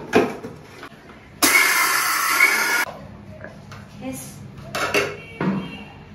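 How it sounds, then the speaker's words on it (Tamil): A kitchen mixer grinder powders roasted fenugreek and mustard seeds in a short, loud whirring burst of about a second and a half, with clinks of utensils and speech before and after. "இப்போ இந்த வெந்தயமும் கடுகும் நம்ம வறுத்து வச்சிருக்கோம் இல்லையா, அதையும் மிக்சியில பொடிச்சுக்கலாம்."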